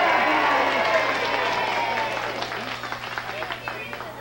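A 1960s televised wrestling crowd applauds and cheers after a fall is won, steady dense clapping that slowly fades, heard under an announcer talking.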